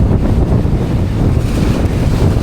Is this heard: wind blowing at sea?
yes